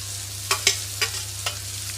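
Ginger, garlic and onions frying in a pan, with a soft steady sizzle broken by several short scraping stirs, close up and without talk.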